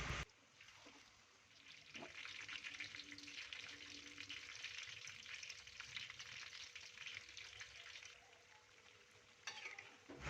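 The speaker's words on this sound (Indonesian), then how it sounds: "Nah, ini aku udah selesai adonin bakwannya, kemudian langsung aja aku goreng ya teman-teman." Bakwan vegetable fritter batter fries in hot oil, a steady bright crackling sizzle that runs throughout, with a few soft clinks of a utensil near the start and end.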